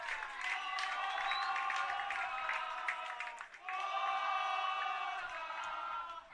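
Crowd cheering and roaring at a Northern Territory football league match between PINT and the Tiwi Bombers after a goal, a sustained loud swell of voices and whoops from a large crowd, dipping briefly midway then surging again.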